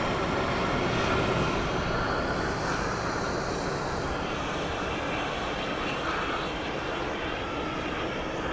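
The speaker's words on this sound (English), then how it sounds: "Got some more planes coming in here." Aircraft engines roar steadily at Dallas Love Field as planes arrive, a continuous loud broadband rumble that holds through the whole stretch with no voices.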